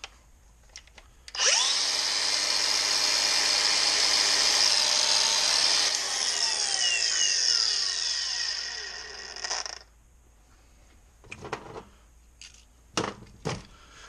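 A Milwaukee M18 Fuel cordless grinder spins up with a loud, high whine, holds steady for several seconds, then winds down with a falling pitch, followed by a few sharp handling clicks and knocks.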